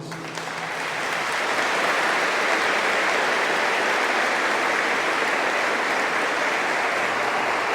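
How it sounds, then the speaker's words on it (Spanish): Audience applause at a Catholic church gathering, steady dense clapping that rises within the first second and holds evenly, loud and sustained throughout. "Bienvenidos, un aplauso para ellos."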